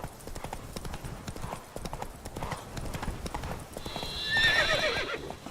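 Roach, a horse in a video game, gallops with a steady rapid clip-clop of hooves throughout, then lets out a loud whinny near the end, with a faint voice briefly underneath.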